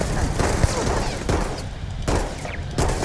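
A laser pistol hip-fired in Starfield, a quick series of sharp zapping shots at an uneven rhythm, close and loud over a steady game background.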